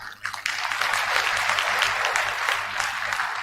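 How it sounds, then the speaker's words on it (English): A crowd claps steadily in sustained applause at a university convocation ceremony, dense and fairly loud, with no voices over it. "We can do better with that round of applause"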